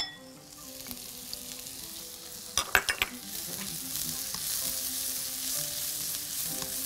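Onion and garlic frying in a pan, a close, even sizzle that swells louder after a brief burst of sharp utensil clatters midway, then a bright continuous hiss, no talk.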